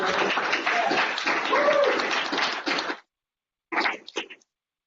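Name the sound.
round of applause from audience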